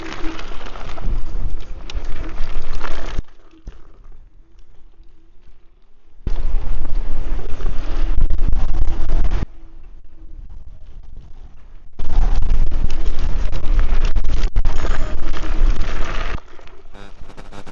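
Angwatt C1 2.0 dual-motor electric scooter ridden off-road, heavy rushing wind and rumbling bursts alternating with quieter stretches, loud and close, in three long surges.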